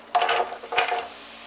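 Butter and onion dropped into a hot saucepan, two short bursts of sizzling and clattering close by, each fading quickly.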